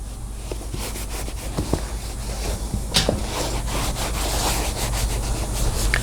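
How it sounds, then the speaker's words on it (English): A clean dry cloth rubs across a leather saddle, lifting off residue and dirt, giving close, continuous scuffing and swishing strokes with brief bumps and no talk. "as I wipe it with a clean, dry cloth"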